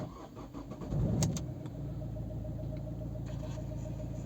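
A 2011 Opel Zafira with a 1.7 diesel engine cranks briefly and catches, then settles into a steady, even diesel idle rumble heard from close by.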